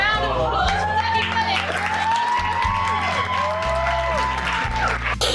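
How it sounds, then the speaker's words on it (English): Wedding guests applaud, a steady wash of clapping and some cheering under a sustained music bed with a prominent melodic line throughout. "a big round of applause for Dougie"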